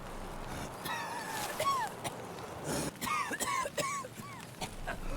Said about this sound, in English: It's quite a fluidy cough.